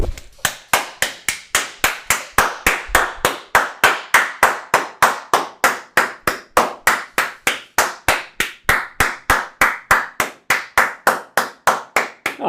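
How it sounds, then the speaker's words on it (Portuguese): A Brazilian streamer claps steadily at close range during a review of the League of Legends 2022 preseason, dozens of sharp, evenly spaced claps running for over twelve seconds with no talking. "Eu vou bater palmas pra isso aqui"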